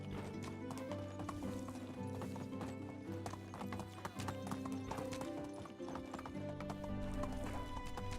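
Horse hoofbeats from riding in the video game Medieval Dynasty, a rapid continuous clip-clop gallop with an occasional neigh, backed by steady game music.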